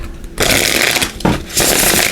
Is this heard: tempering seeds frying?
no